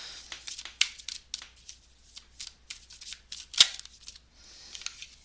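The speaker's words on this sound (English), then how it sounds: "Now let me shuffle again" Repeated crisp riffling of tarot cards being shuffled, close by, in short bursts with brief pauses between, with no voices.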